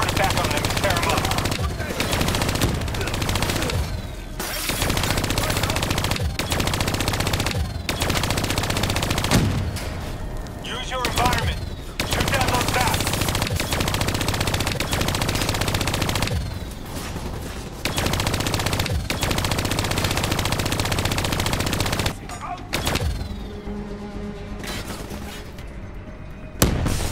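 Hijacked turrets in Call of Duty: Black Ops III rattle out long, dense bursts of machine-gun fire with booming impacts, loud and continuous, broken by brief pauses and overlaid with game voices.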